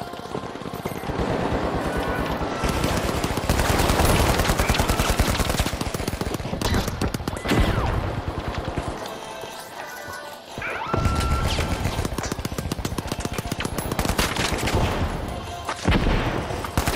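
Sustained rapid gunfire from a deployed turret in the game THE FINALS, loud and continuous crackling bursts that drop out briefly midway before resuming.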